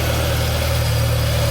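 Classic Morris Minor car engine idling after years off the road, exhaust only partly fitted: a steady, loud, even low rumble with constant vibration, close up and alone, with no voices.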